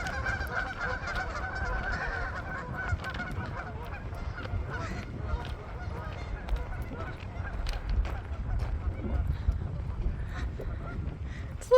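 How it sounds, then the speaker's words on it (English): Several geese honk loudly and repeatedly nearby at an RV park in Pigeon Forge, Tennessee, their calls overlapping against outdoor noise and wind rumble. "Never mind these geese."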